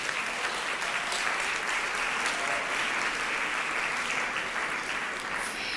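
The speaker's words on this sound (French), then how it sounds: "Merci pour ces applaudissements pour Denis Billotte." A live audience at a Swiss final of a short science-thesis presentation contest claps in a sustained, full burst of applause, close and steady throughout.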